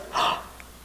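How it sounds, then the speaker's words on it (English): A single quick, open-mouthed inhale, a choral singer's prep breath taken in an open awe position, airy and close, lasting under half a second before fading to quiet room tone. "which was a nice prep breath. It sounds like this."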